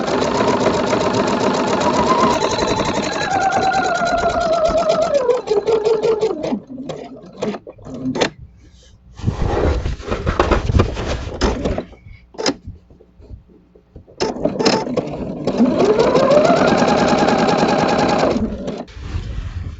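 A sewing machine stitches a zigzag along quilted fabric for a wall hanging, running in steady rapid bursts with brief pauses and shifts in speed, loud and close with no talking.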